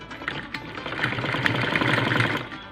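A sewing machine stitches a ladies' purse, its needle running in a fast, even mechanical chatter that stays close and steady throughout.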